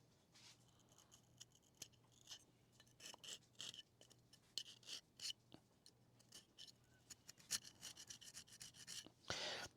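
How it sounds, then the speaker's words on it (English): Fiber-reinforced plastic from a large-scale Optimus Prime model kit is scratched close by, producing faint, irregular dry rasping strokes with brief bursts of scraping over a quiet background. "When you hear that scratchy noise in plastic, it generally means that it has fiber reinforcement."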